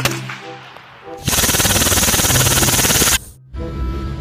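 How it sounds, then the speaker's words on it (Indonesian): An M4 rifle fires in a video game, a rapid, loud automatic burst of evenly spaced shots lasting about two seconds, with quieter game sounds before and after. "Yang ini namanya tembakan M4."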